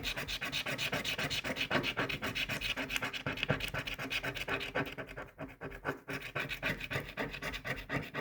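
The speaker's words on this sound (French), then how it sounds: "Alors, je gratte, je gratte, je gratte." Steady, rapid scratching of a gold lottery scratch ticket, a continuous close-up rasping rub with a quick, even rhythm and a brief pause near the end.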